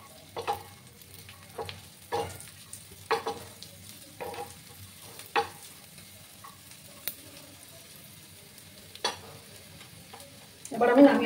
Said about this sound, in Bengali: এইভাবে কিছুক্ষণ আমি একটু ভেজে নিচ্ছি।